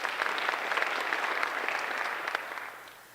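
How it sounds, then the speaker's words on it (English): A round of applause from the audience at a high school senior awards ceremony, dense clapping in an indoor hall that holds steady and then tapers off at the end. "if we could still give a little round of applause for Kira"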